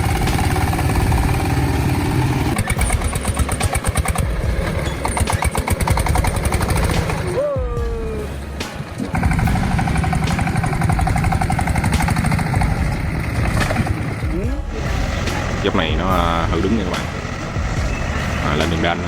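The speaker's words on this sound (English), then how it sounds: "The engine roared, not a gentle whine, but a powerful, rasping roar" A heavy off-road truck engine roars with a loud, rasping, continuous drone, briefly dipping mid-clip before surging again, with mechanical rattles and higher whines layered over it.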